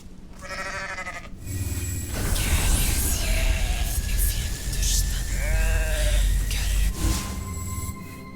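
Sheep bleat in a video game demo, with a short bleat near the start and another midway through, set over a steady, fairly loud game backdrop.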